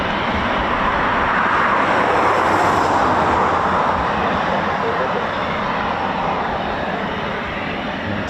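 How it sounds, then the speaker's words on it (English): Eurofighter Typhoon FGR4 jets at RAF Coningsby spooling up, a sustained loud engine roar with a broad rushing hiss that swells slightly and holds steady, with faint talk in the background. "More Typhoons spooling that you can hear."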